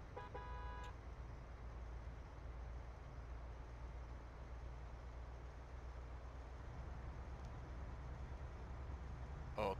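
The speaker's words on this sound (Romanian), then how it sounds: "ce claxon de Dacia are" Honk of a Dacia car horn in Euro Truck Simulator 2: a short, bright toot at the very start over a steady, loud road and engine drone that continues alone.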